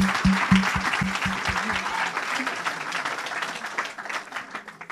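A congregation breaks into loud sustained applause at a Christian gathering, with a few sharp rhythmic claps near the start, the clapping thinning and fading over several seconds.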